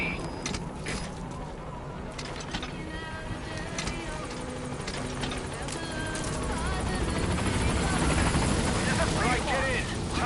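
Pequod, the transport helicopter in Metal Gear Solid V: The Phantom Pain, arriving at a landing zone. The rotor noise is steady and fairly loud and swells toward the end, mixed with other game sounds and talk.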